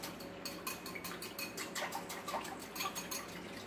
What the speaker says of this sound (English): We just want to make sure we get our cornstarch all nice and mixed in there.